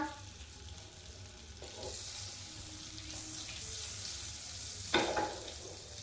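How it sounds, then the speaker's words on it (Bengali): A steady sizzle of a butter cube and oil heating in a pan, with a brief louder crackle near the end; no talking. "কড়াইয়ে আবার একটা বাটারের কিউব দিয়ে দিলাম"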